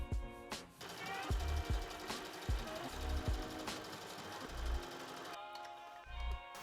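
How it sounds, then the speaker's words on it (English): A sewing machine stitching down a folded sleeve seam for a dress, its motor whirring in short bursts with rhythmic needle knocks close by, and background music underneath. "I'm going to just fold them in half and sew down this seam here"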